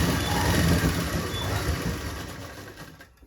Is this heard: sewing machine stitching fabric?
yes